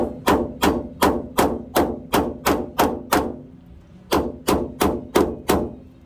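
Hammer beating a metal wheel-well flange on a 4x4 Astro van, a run of sharp, loud metallic blows in quick rhythm, about nine strikes, a brief pause, then five more, close up with no talk.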